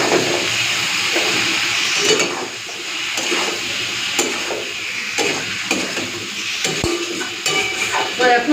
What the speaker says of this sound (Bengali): মশলাটা দিয়ে ভেজে নেব, মানে কষে নেব।